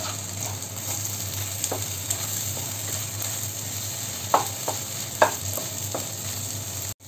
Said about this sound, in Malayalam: മസാലയുമായിട്ടല്ല എഗ്ഗിനെ പതുക്കെ ഒന്ന് ഇളക്കി കൊടുക്കണം